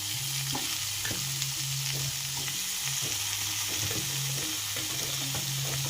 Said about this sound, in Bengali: কুমড়ো, রাঙা আলু, কাঁচকলা, সজনে ডাঁটা এগুলো প্রায় ভাজা ভাজা হয়ে গেছে